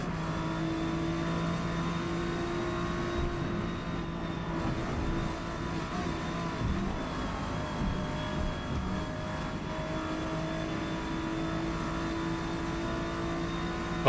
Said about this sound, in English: That's a fast Ferrari.